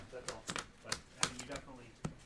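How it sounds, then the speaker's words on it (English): Magic: the Gathering cards shuffled by hand, a run of short crisp snapping and rustling bursts at an uneven rhythm, close and fairly quiet. "A little bit of shuffling."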